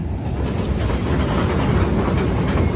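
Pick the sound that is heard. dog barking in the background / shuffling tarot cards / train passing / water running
train passing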